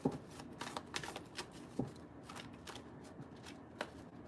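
Quick, crisp riffling and tapping of tarot cards being shuffled close by, several bursts in an uneven rhythm, fairly quiet.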